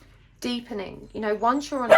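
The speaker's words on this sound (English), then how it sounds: "Why are you barking at me?" A pet dog named Pip barks and yips in short bursts close by, mixed in with a person talking.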